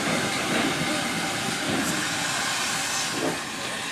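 Great Western Pannier tank steam locomotive 1638 at Bodiam station on the Kent and East Sussex Railway, a steady loud broadband hiss of steam with faint chuffs underneath, continuous throughout.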